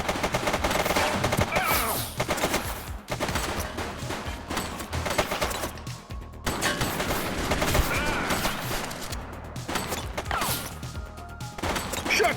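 Dense gunfire from The Precinct video game, rapid overlapping shots and bursts with crashes and impacts, loud and continuous throughout with little pause.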